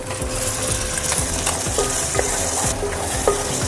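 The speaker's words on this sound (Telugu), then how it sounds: "టమాటా కొంచెం మెత్తగా అయ్యేంత వరకు ఫ్రై చేసుకుందాం" Chopped tomato frying in a pan for egg ponganala curry: a loud, steady sizzle with rapid scraping and clinking of a spatula stirring against the pan, no talking.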